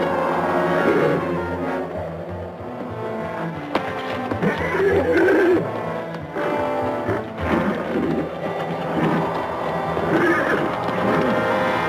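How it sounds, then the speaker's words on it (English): Horses from a 1965 episode of the Western series The Big Valley neigh and whinny several times over a soundtrack, with hoof clip-clop and shifting movement between the calls, close and fairly loud. "Horses."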